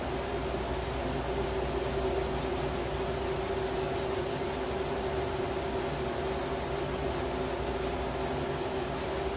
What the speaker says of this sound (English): Give it a good rub. Even heat it up a little bit with the rubbing of it.